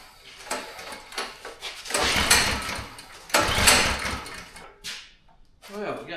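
A Coleman KT196 go-kart engine being cranked without starting: two long, loud pull-start bursts of churning and sputtering separated by pauses, with shorter pulls and clanks around them and someone talking at times.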